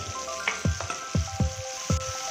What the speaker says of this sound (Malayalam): ഈ തക്കാളി ഒന്ന് നമുക്ക് വാട്ടിയെടുക്കാം